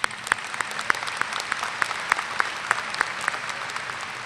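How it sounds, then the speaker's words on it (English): A large commencement crowd applauds the college deans, a steady wash of clapping with rhythmic louder claps standing out at an even pace, continuing throughout at moderate volume. "Let's give them a round of applause."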